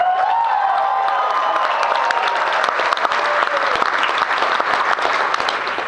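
Wedding guests applaud and cheer for the bride Gina at a reception, a dense, steady wash of clapping with whoops and shouts throughout, loud and close for the whole stretch.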